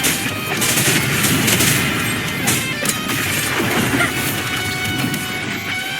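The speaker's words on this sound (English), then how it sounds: "Another mortar thrown at us." Explosive crashes and debris rumble from a mortar barrage in the video game Wuthering Waves, loud and continuous across the span with dense mixed game sound.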